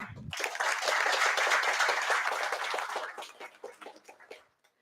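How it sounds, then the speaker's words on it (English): An audience at a civil services society event bursts into a dense round of clapping that swells quickly, holds steady, then thins out into scattered claps and stops. "A big round of applause."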